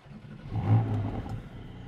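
A Porsche GT4 sports car engine fires up and settles into a low rumbling idle, a brief swell of revs near the middle that then steadies, heard close and fairly faint.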